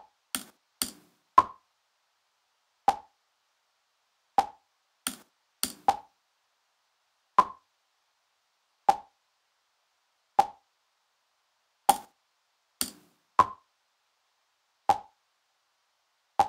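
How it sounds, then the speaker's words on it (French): Sharp, isolated clicks repeat at irregular intervals in a quiet space, each followed closely by a delayed secondary copy, demonstrating the Haas effect with an echo. "À 10 millisecondes, on perçoit déjà le son secondaire comme un écho."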